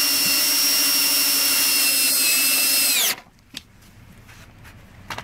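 Power driver spinning sheet metal screws into car rocker panels, a loud steady high-pitched whine that abruptly winds down and stops, followed by quiet shop ambience with a few light clicks.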